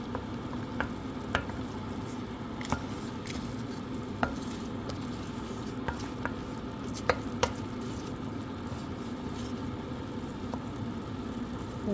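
Spice paste for Indonesian beef serundeng frying in a pan, a steady low sizzle with occasional spatula scrapes and clicks while being stirred, close and continuous.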